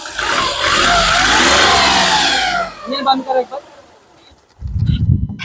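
A 2013/14 Volkswagen Polo Comfortline engine revs loudly and steadily, then drops away, followed by a few spoken words and a closing rumble of the engine nearby.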